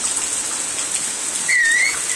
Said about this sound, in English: You don't mind that it's raining, do you?